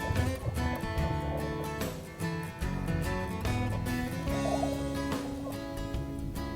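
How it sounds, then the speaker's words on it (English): Male prairie chickens boom in a dense chorus at a Kansas lek, low hooting calls overlapping continuously, with occasional higher cackles mixed in. "Booming is the trademark sound of a prairie chicken lek."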